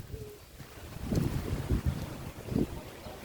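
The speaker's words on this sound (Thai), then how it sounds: "ลมเนี่ยลมแห้ง" Dry wind blows against the microphone in low, uneven gusts that swell and fade, with no one talking.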